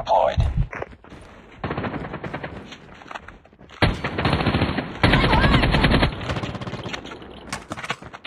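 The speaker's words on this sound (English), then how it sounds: "Sentry gun deployed." Automatic sentry gun fire in Call of Duty Mobile, loud bursts of rapid shots in several stretches amid game sound effects and announcer voice lines.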